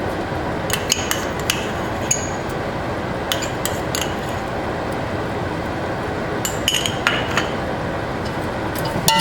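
Cabbage and tomato paste stirred in a metal stew pot for a Haitian chicken vegetable stew; a sparse scatter of spoon clinks and scrapes rises over a constant loud sizzling, frying hiss.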